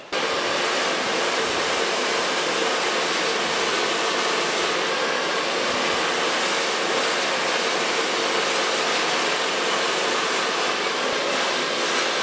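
A hair dryer blows steadily at close range while fine hair is dried with a 2.5 cm round brush, making a loud, unbroken airy roar that holds for the whole stretch.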